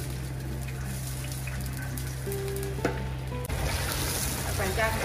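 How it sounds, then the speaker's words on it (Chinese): A whole fish fries in a large pot of rapeseed oil, giving a loud, steady sizzle that shifts into a brighter, bubblier crackle partway through, close to the pan. "菜籽油炸出来响的了。"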